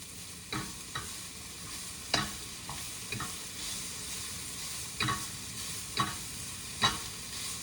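Onions fry softly in a pan under a steady low sizzle, while a spoon scrapes and knocks against the pan in scattered stirring strokes.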